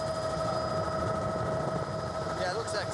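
Helicopter in flight over rugged cliff country, a steady loud rotor and engine drone with a rhythmic throb, continuous throughout, with faint voices briefly heard beneath it near the end.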